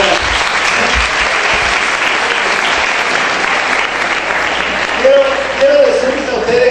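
Large audience applause in a university auditorium at a lecture, a loud continuous roar of clapping from many hands with a voice rising faintly near the end.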